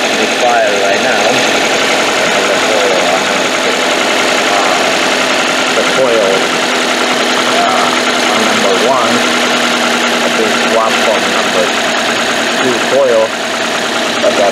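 A Toyota engine idles steadily with a cylinder 1 misfire, a continuous mid-pitched running drone with faint irregular knocks, close and loud, while a voice talks over it.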